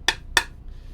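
Two sharp, hollow clacks from a Noah65 mechanical keyboard whose case has a gap in the middle, close and crisp with a slight rattly edge, a quarter second apart.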